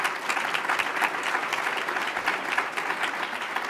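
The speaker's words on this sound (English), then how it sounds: "big applause for event organizers Kristen Oliver of NOMA and Charlotte Robinson of NOAC" Audience applause for the event organizers at the close of the Northern Leaders' Debate in Thunder Bay, steady dense clapping from a crowd filling the whole stretch at an even level.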